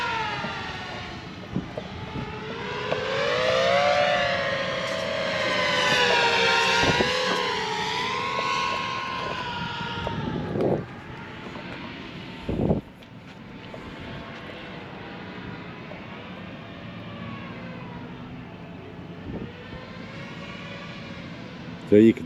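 An FPV racing drone zips past with a loud, rising and falling high-pitched motor whine that sweeps through pitch as it nears and recedes, fading to a steadier distant buzz, with people talking nearby.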